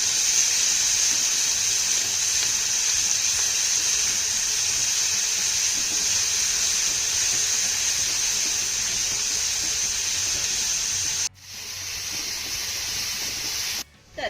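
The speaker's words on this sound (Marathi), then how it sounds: "आता हा कांदा आपल्याला छान असा मौसूद होईपर्यंत परतून घ्यायचा आहे" Chopped onion with green chilli and garlic paste sautéing in a pan for methi pithla, a loud steady hiss that cuts out briefly twice near the end.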